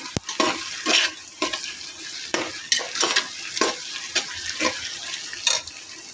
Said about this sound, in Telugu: అల్లం వెల్లుల్లి పేస్ట్ వేసుకోవాలి. వేసుకున్నాక ఒకసారి కలుపుకోవాలి.